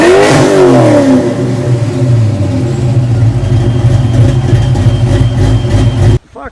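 A 1987–93 Fox Body Ford Mustang exhaust revs up loudly at the start, then settles into a deep, rumbling idle that cuts off abruptly at the end.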